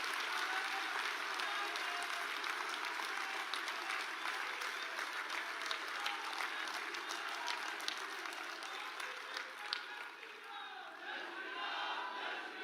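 A large crowd at a BJP national convention gives sustained applause, a dense continuous clapping roar with scattered cheers that stays even throughout, heard fairly faintly.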